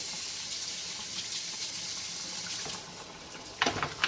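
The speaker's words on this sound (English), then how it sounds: "Nice jet of water." A hot water jet sprays down a Traxxas X-Maxx RC car during cleaning, a steady hissing gush of water up close that briefly dips and then spatters as the spray shifts.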